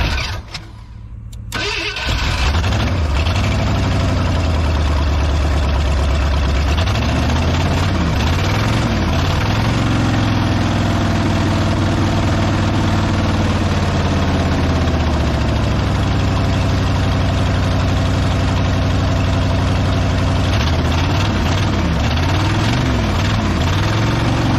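A Ford F150 engine, run for the first time after sitting for 15 years, cranks briefly and catches. It then idles loudly and steadily close by, with a faintly wavering rumble and no voices.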